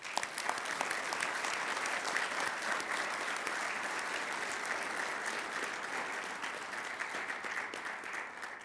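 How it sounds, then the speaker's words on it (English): A large audience at an annual general meeting claps steadily for several seconds, a dense even wash of hands heard at moderate distance. "They all deserve a round of applause."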